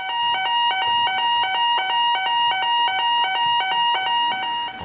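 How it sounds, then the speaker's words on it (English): A fire evacuation alarm sounds loud and steady: a shrill electronic tone pulses in rapid, even repeats without a break, and no voices are present. "In the event of a fire or evacuation,"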